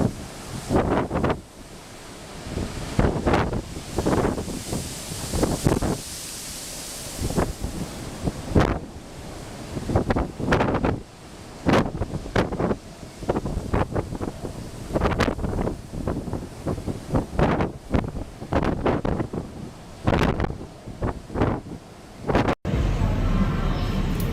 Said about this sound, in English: Video taken on the Queen Elizabeth in very rough seas during her maiden transatlantic crossing in